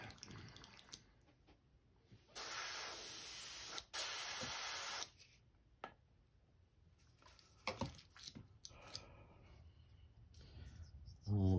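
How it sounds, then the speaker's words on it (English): An airbrush sprays while a crankbait lure is being painted: two sustained, close hissing bursts of about three seconds each, then quieter handling noises and brief puffs in a small room. "Clean this out of my airbrush."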